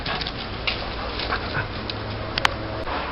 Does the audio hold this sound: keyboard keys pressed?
no